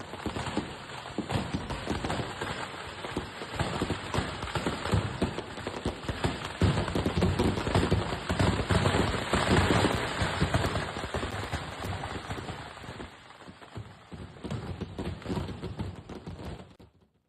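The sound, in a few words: firecrackers exploding at a fireworks display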